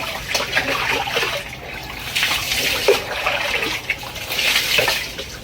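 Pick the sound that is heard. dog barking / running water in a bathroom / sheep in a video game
running water in a bathroom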